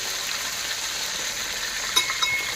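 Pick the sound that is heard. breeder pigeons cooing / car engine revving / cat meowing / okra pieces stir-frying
okra pieces stir-frying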